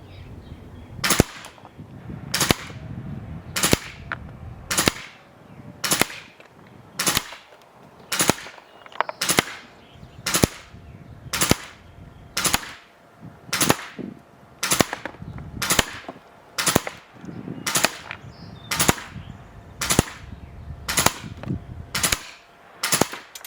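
Tokyo Marui M4 and AKM airsoft rifles firing single shots at a steady, slow pace, about twenty sharp cracks spaced roughly a second apart, close and crisp with quiet gaps between them.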